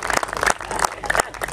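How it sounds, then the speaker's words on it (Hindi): A crowd at a Hindi poetry event in Rana Talwandi applauds, bursts of dense clapping rising and falling in quick waves, loud and close. "एक बार जरा जोरदार तालियां बजाइए।"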